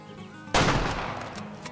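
A single sharp .300 rifle shot at a moose in the hunting game Way of the Hunter cracks out loud and close after a quiet moment, then rolls off in a decaying echo.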